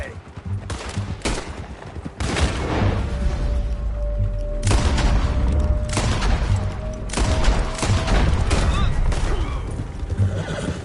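Gunshots in Red Dead Redemption 2 crack out in several sharp, loud bursts spread across the scene, mixed with a horse's whinny and rumbling background, while voices speak between the shots.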